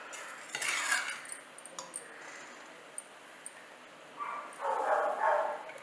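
Peas paneer pulao being spooned from the cooking pot into a serving bowl, with scattered metallic clinks and a few longer scrapes of a spoon against metal, close and moderately loud.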